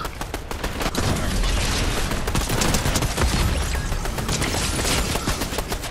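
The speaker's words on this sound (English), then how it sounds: "I'm getting shot from behind!" Heavy, sustained gunfire in a video game firefight, a loud, dense barrage of overlapping shots and booms that rolls on without pause, close and filling the scene.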